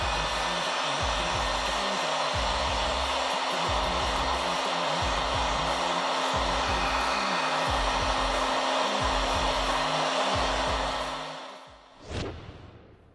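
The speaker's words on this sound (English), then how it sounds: "We proceed to dry it using a kitchen towel and a hot air gun." A hot air gun blows steadily to dry a water-damaged OnePlus phone beside a kitchen towel. The loud, continuous airy roar carries a low pulsing rumble, then fades and cuts off near the end.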